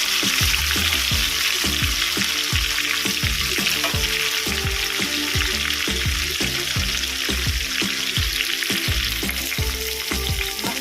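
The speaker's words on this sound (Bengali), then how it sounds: "একটা দিন ভাজা হয়ে গেছে আমি উল্টে দেবো" Fish heads fry in hot oil in a pan for a Bengali muri ghonto, a loud, dense, continuous sizzle with rapid popping crackles close up, heard alone without talk.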